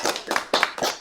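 A few close, distinct hand claps in a slow rhythm, about four in one second, from a small number of people welcoming two interview guests.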